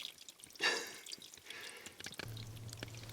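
Water drips and trickles from a rain barrel split at the bottom seam, with faint, irregular close drips, a brief splashy burst, and a low steady hum toward the end.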